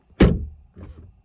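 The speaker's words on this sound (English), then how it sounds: "I also think the doors sound a bit" A BMW i4 M50 car door shuts with one sharp, close thud and a lighter rattle after it. The sound is short and fairly thin, with no talk.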